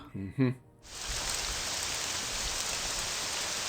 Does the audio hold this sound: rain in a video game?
yes